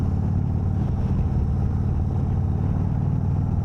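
Turbocharged off-road vehicle fitted with new Fox shocks, its engine running steadily and loudly up close as it accelerates, a constant rumbling drone.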